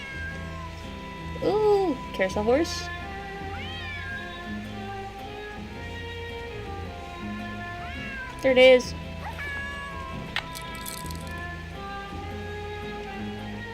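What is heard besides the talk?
cat meowing in a video game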